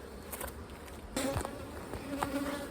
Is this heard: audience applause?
no